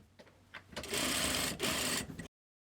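A sewing machine edge-stitching a fabric dress panel runs in a steady continuous whir for over a second, with a brief pause and short start-up bursts before it, close and clear with no talk.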